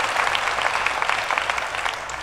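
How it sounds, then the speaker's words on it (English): Hacker-conference audience at DEF CON 20 bursts into dense, steady applause, a close wash of many hands clapping with no talk over it. "Let's give him a round of applause too."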